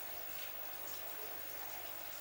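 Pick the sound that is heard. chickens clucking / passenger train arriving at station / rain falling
rain falling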